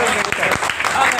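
A short burst of crowd applause at an Urdu poetry mushaira in Bhusawal, dense clapping heard close for about a second.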